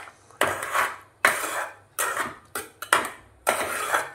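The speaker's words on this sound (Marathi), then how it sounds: "असंच मिक्स करून घ्यायचं आहे।" Spoon stirring wheat kheer in a metal pot, five scraping, clattering strokes in an uneven rhythm, close and moderately loud, no voices.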